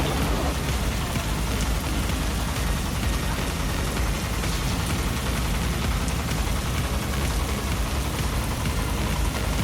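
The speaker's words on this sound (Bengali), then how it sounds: "লেকের মাঝখানে আসার পর হঠাৎই বৃষ্টি শুরু হয়।" Sudden heavy rain pours over Kaptai Lake in Rangamati, a dense, steady roar of drops hitting water that holds at a constant loud level throughout, with no voices.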